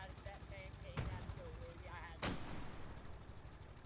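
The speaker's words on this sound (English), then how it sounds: "At least the artillery leave me alone now." Artillery fire in a trench warfare video game: two sharp blasts about a second apart over a constant low rumble of distant gunfire, with a voice talking faintly in between.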